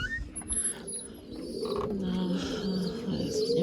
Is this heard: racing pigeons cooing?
yes